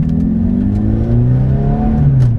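A manual Ferrari F430 V8 engine revs hard in first gear, with rising harmonic tones that climb steadily and then shift, loud and close throughout with no talking.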